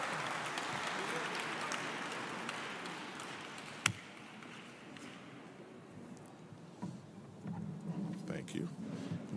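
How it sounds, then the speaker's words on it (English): Audience applause for the board at a legacy awards dinner, clapping strong at first and thinning as it goes on, with a sharp knock partway through and voices rising near the end. "All right, one more round of applause for our board."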